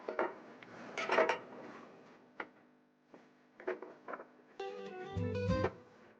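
Bread pieces for tomato and ricotta crostini are set down on a baking sheet in a kitchen: a handful of close, light clatters, taps and scrapes at an uneven pace, ending with a short tonal ring and hum.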